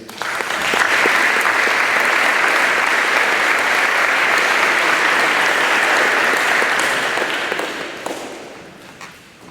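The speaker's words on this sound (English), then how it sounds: "Everyone can give a round of applause to Lee Ramsey" Loud, sustained applause from a large crowd at a Hall of Fame banquet, rising quickly and holding steady before tapering off at the end.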